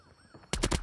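A GKS gun fires in a video game: quiet game ambience, then a loud rapid burst of about four close shots.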